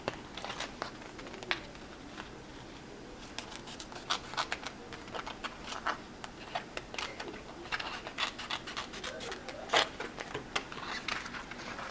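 Scissors cutting heat transfer vinyl for a machine-embroidered onesie, a faint, steady run of small snipping clicks and rustles with no talking.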